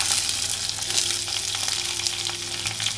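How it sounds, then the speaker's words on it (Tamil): Onions and cumin seeds sauté in hot oil in a pan for a quail egg curry, giving a steady, close, dense sizzle that holds level throughout, with faint stirring scrapes and no voices. "இந்த வெங்காயம் நல்லா சுருண்டு வரணும் அது வரைக்கும் நல்லா வதக்கிக்கோங்க"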